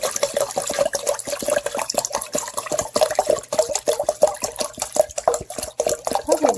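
Water pours steadily into a bucket being filled for a Kratky hydroponics setup, with liquid plant food already added; a continuous splashing, gurgling stream, close and moderately loud, with no talking.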